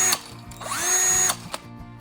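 Cordless drill powered by a Bauer battery, a short high-pitched whirring burst as the motor spins up, holds briefly and stops, heard close with brief clicks around it.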